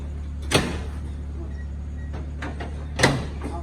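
A door on an old Hino FC truck is opened, giving two sharp metallic clunks about two and a half seconds apart, with softer rattles between them over a constant low engine hum.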